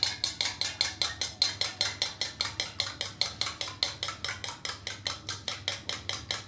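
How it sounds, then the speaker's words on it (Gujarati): Eggs are whisked briskly in a bowl with a utensil, a fast, steady run of sharp clinking strokes at close range, each stroke evenly spaced and fairly loud, with no voices. "બરાબર ફેંટી લેવાના ઈંડાને।"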